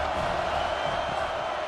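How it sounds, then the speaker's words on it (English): Football stadium crowd roaring steadily for the defense on third down at a Denver Gold home game against Ohio Glory, a dense continuous wall of cheering with no breaks. "Decibels rising as the crowd gets behind this defense on 3rd down."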